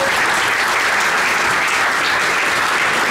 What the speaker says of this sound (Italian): un applauso a Giovanni Di Tucci